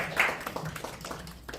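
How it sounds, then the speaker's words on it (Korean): A brief, soft wash of applause from an audience at a press conference with overseas Korean journalists, diffuse and somewhat distant, lasting only a moment. "박수 부탁드리겠습니다"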